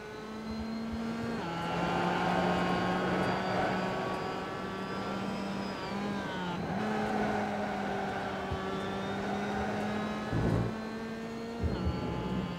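A race car engine in the iRacing sim, heard from the cockpit camera, drones continuously with a strong harmonic whine that dips and climbs through gear changes and shifts in revs, fairly loud and with no talking.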